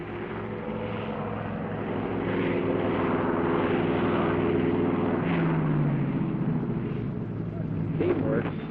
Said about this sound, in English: As each plane taxis forward, the one behind it is already on its final approach.